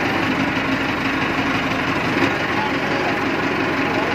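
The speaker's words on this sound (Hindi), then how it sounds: "ट्रैक्टर चल पिया जी" A Millat tractor's diesel engine runs at a steady idle-like drone, loud and close, with a constant low rumble and mechanical rattle throughout and no pauses.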